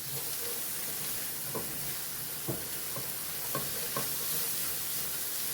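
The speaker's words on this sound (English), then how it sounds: "I'm just sauteing this just a little bit, and then we're gonna add the rice to this." Bacon and cabbage sauté in a pan, giving a steady low sizzle with a few soft stirring knocks spread through it, close and quiet, no one talking.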